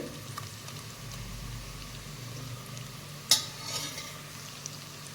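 Onions with salt sautéing in oil in a pan for chicken biryani, giving a soft, continuous low sizzle with a single sharp scrape of stirring partway through, close and quiet.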